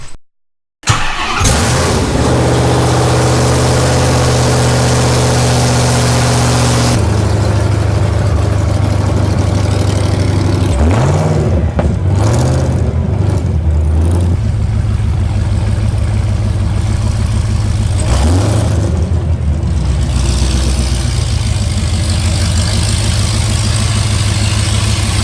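A Hellcat V8 engine swapped into a Mazda Miata idles loudly and roughly, then revs up in several sharp blips before settling back to a heavy, throbbing idle.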